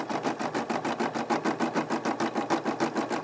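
A Brother SE600 embroidery machine stitches out lettering in a fast, even rhythm of needle strokes, close and continuous throughout.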